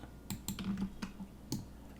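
Several keyboard key presses tapped on a computer keyboard during 3D modeling work, a quick cluster of light clicks followed by a single firmer click, close and fairly quiet with no talking.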